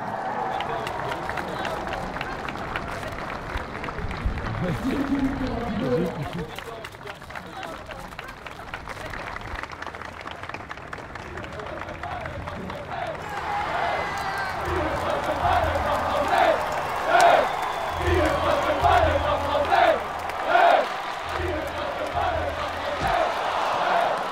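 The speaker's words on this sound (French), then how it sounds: "vos applaudissements pour la victoire dans ce concours complet international 1 étoile pour Victor Lévesque" Applause and cheering from spectators at the prize ceremony of an international one-star equestrian eventing competition, a crowd clapping under a voice on a public address system that runs through it, with the clapping swelling and growing livelier toward the end.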